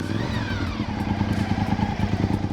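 A Honda VTR1000 SP1 V-twin sport motorcycle engine runs with a steady, loud, throbbing rumble and a rhythmic low pulse that holds throughout, with no talking.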